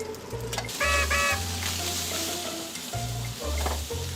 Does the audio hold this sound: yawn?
no